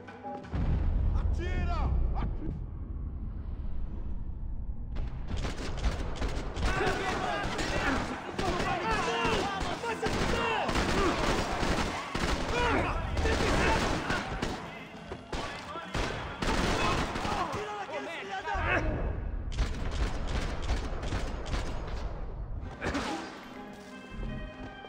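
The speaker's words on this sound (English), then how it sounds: "Who is shooting at me still?" Gunfire in the Max Payne 3 shooter game on PC, heavy bursts of rapid shots and thudding impacts in loud, dense volleys with a few short lulls between barrages.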